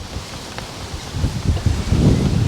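Gusts of wind buffet an outdoor seaside spot near a lighthouse, rustling and rumbling low, building in strength toward the end with no talk.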